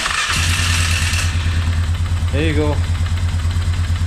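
A small engine with a newly installed carburetor runs at a steady, loud, close idle with a throbbing low rumble throughout, while someone speaks briefly over it.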